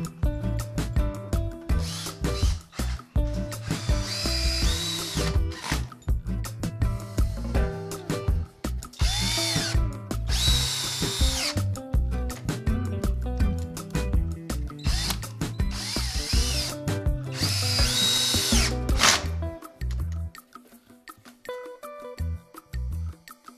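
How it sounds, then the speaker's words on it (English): A power drill drives screws into wooden archway framing, with repeated whirring bursts of a few seconds each, close and fairly loud, separated by short pauses. "put a few more screws in here"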